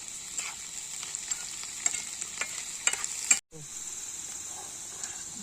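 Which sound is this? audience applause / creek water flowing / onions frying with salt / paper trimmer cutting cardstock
onions frying with salt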